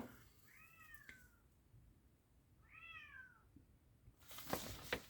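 A pet kitten meows twice indoors, each call a clear, rising-and-falling cry about a second apart, followed by a burst of rustling noise at the end.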